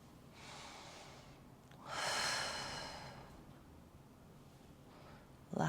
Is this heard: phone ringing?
no